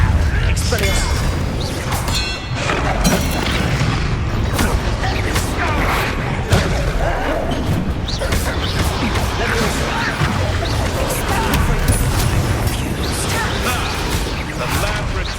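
Spell combat in the video game Hogwarts Legacy, with loud crashes, whooshes and impact booms following one after another over a continuous game soundscape, mixed with voice lines from the characters.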